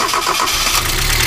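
A Mazda Miata engine fitted to a go-kart cranks and catches on its first start, a loud, rough mechanical burst that settles into a steady low rumble close by.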